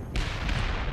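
A bomb goes off in the underwater video game Depth, a sudden loud, muffled boom that bursts in and rumbles densely through the short moment.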